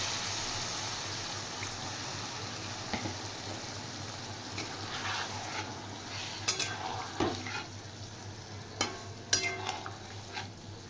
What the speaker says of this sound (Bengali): এবার আমি সামান্য জল দিয়ে ফুটিয়ে নেব, তাহলে ঢেঁড়সের ভেতরে নুন আর মিষ্টিটা ঢুকবে।